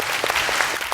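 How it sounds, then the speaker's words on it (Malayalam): An audience at a comedy show claps in a burst of loud, dense applause that runs through the whole moment without voices. "നല്ലൊരു കൈയടി ആദ്യം തന്നെ നമുക്ക് കൊടുക്കാം"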